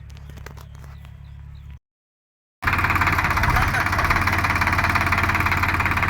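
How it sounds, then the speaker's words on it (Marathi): A tractor engine runs while rotavating a farm field, first as a low hum under speech, then after a short gap as a loud, close, steady mechanical roar with rapid knocking pulses. "ट्रॅक्टर आलं रोटरायला"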